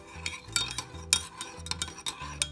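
A spoon stirs and scrapes against a bowl as warmed milk is mixed with vinegar and strawberry essence for an eggless cake, in steady repeated strokes with light clinks, close and fairly quiet.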